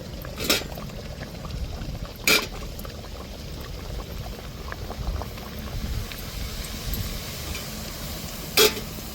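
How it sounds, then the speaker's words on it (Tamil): Rolled dough balls frying in hot oil for a breakfast snack: a constant close bubbling sizzle, with a few sharp clinks from a utensil standing out now and then. "இப்போ நம்ம உருட்டினதை ஒன்று ஒன்றா எண்ணெயில் போட்டு எடுத்துருவோம்"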